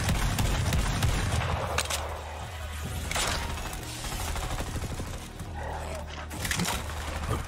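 Shotgun blasts in the game Borderlands 3 come in rapid fire as a dense, steady burst of loud gunfire and mechanical clatter, with a voice talking over it.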